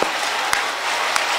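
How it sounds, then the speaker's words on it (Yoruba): A congregation at a Wednesday prayer meeting claps their hands in a dense, continuous patter of applause with a few sharper claps standing out. "clap your hands very well."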